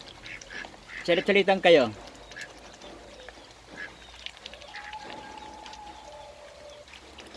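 A duck lets out a quick, loud run of quacks near at hand, followed by quieter background noise while people talk.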